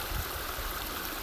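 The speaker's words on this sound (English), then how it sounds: "Got a stream coming down through here. It turns into, just below me here, a waterfall, and carries on down that way." Mountain stream rushing steadily down toward a waterfall on a trail, a continuous broadband wash of flowing water with low rumble, close and fairly loud, no voices.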